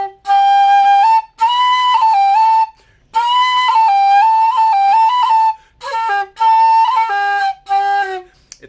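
A Reyburn maple low D whistle playing a melody in several breathy, sustained phrases separated by short pauses, clear and close.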